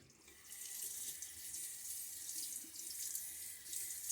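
A tap runs steadily to rinse the threaded side of a shaving-soap tub, with close, continuous splashing and gurgling water throughout.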